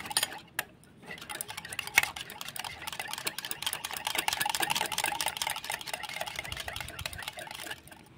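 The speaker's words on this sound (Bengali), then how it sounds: "জলটা দিয়েও আমি ভালো করে আর একটু ফেটিয়ে নেব।" Yogurt mixed with water is whisked in a bowl with rapid, light clicking and tapping of a utensil against the dish, soft and continuous with a few sharper knocks, and no voices.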